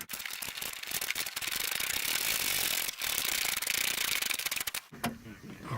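A ratchet tightens an 8mm bolt on a 2006-2011 Honda Civic, making a fast, continuous, close-up rattling click with a few short pauses and a brief stop near the end.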